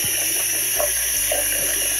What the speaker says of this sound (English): So what I'm going to do is get some warm water going.